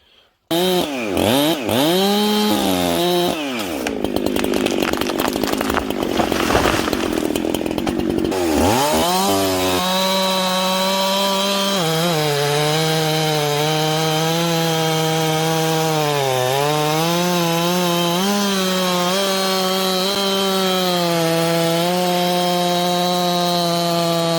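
A Husqvarna 372XP chainsaw runs loud and close, revving hard and bogging as it cuts through wood, then settles into a steady high-pitched whine with rising and falling engine pitch as the throttle shifts.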